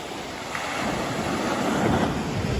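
Ocean surf rolling onto a West Maui beach beside lava rock reef, big waves breaking in a continuous close roar with wind buffeting the microphone.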